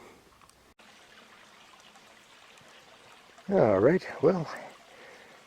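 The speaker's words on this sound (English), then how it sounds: "got down here to a pool where I've got just a little bit of water running" A small creek trickling gently into a pool, a faint, steady murmur of running water in the background, with someone talking briefly over it near the end.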